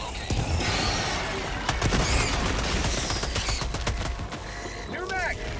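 Rapid gunfire and a grenade blast in the Helldivers 2 video game, with dense bursts of loud shots and crackling impacts running throughout and in-game voices calling out over the chaos.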